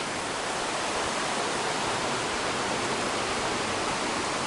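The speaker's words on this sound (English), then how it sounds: "It's a beautiful, beautiful river right down through here." Deep Creek, a river in the Smoky Mountains near a backcountry campsite at about 2,500 feet, rushing along in a steady, dense broadband roar, close and unbroken.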